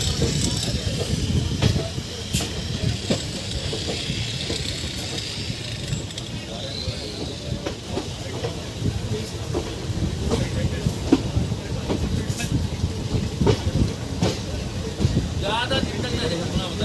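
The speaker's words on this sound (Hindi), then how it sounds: "बस 2 मिनट में ट्रेन चल जाएगी।" Train rolling on rails with a steady broadband rumble and hiss, near and constant, with faint wind noise against the microphone and occasional voices underneath.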